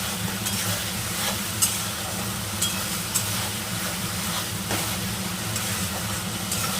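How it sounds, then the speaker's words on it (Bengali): Spices sautéing in a pan for a Bengali fish-head muri ghonto give a steady, close sizzle and frying hiss with occasional stirring scrapes, and no voices. "মশলাটা ভালো মতো কষিয়ে নিতে হবে।"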